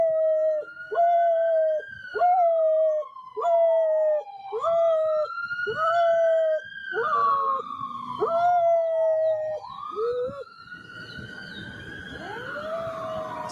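A police siren wails in repeated rising and falling cycles while a dog howls along with it, the howls tracking the siren's pitch; moderately loud and close, with no talking.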